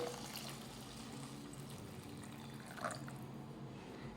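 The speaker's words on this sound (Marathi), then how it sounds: "आता यामध्ये घालूयात गरम पाणी" Hot water pours steadily into a pan of matki (moth bean) curry, a continuous liquid rush with a brief splash near the end and no talking.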